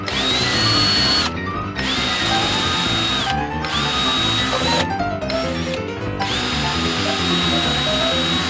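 A power drill runs loud and close in several sustained bursts with a steady high whine, broken by short pauses between runs, drilling with a replacement bit after the previous one snapped.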